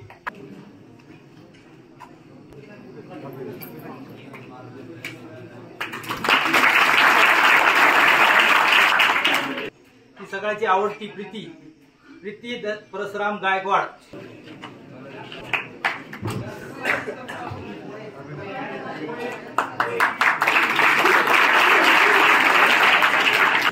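Audience at a school prize-giving during a Run for Unity event in Ambad claps loudly for student winners, two long bursts of applause separated by a stretch of a man announcing names.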